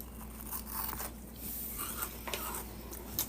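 Crunchy Dubai chocolate bitten and chewed up close: several crisp, snappy crunches spaced across a few seconds, with faint rustling and no talk.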